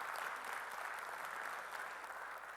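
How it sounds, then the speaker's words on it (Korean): Church congregation at a Sunday worship service applauding to welcome a visiting saxophone club, a soft, even wash of many hands clapping heard from a distance, steady throughout with no talk. "우리 교회 색소폰 동아리 바나바스에 또 오심을 감사하면서 우리 박수로 환영하실까요?"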